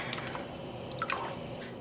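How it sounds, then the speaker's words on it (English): White vinegar trickles into a water dye bath held in a deep full-size catering steam pan, a brief run of soft splashes and drips heard alone. "I have 24 cups of water, and I'm adding 6 tablespoons of white vinegar."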